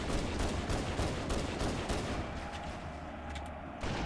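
Rapid pistol fire and surrounding combat in Halo: Combat Evolved on Legendary difficulty, a dense, loud run of crackling shots and explosions that thins briefly before resuming near the end.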